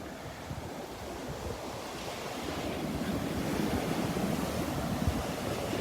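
Ocean waves breaking on a beach in North Naples, Florida, a continuous loud roaring surf wash with wind buffeting the microphone, swelling slightly louder toward the end.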